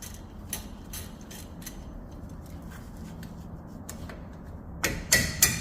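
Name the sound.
hand hammer loosening bolts on Ram 1500 axle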